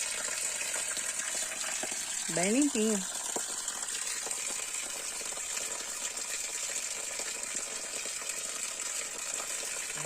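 Water from a small waterfall gushes and splashes steadily in a natural setting, a continuous rushing sound with a brief voice speaking over it.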